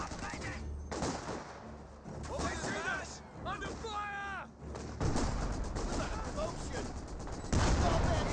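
Machine gun and artillery fire from the strategy game Company of Heroes 2, bursts and booms running throughout beneath someone commentating over the battle, with some whistling sweeps mid-way.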